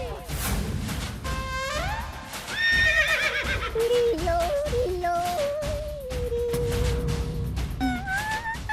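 A horse whinnies in a comedy show scene, a long wavering neigh rising and falling over steady background music, with faint clip-clop and a sharp crash mixed in.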